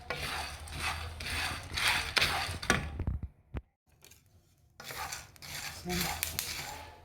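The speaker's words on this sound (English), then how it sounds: "It's hot, so I'll just keep stirring until the soya bean turns brown and is cooked." Soya beans are roasted in a hot pan and stirred, giving a steady, close scraping and rubbing rattle. The sound breaks off for about a second with a few clinks, then resumes.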